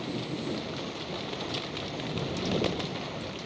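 Steady rain pours in the 1999 Windows video game Dark Secrets of Africa, a dense, even hiss that stays loud and constant throughout with a slight swell near the end, no voices.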